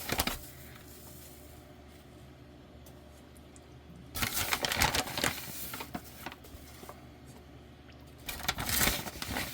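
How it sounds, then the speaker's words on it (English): A whisk scrapes and swirls briskly through redbud jelly liquid in a pot as pectin goes in, with two loud bursts of rapid metallic stirring separated by a quieter stretch of low background hum. "I'm going to try to whisk this in before it boils here."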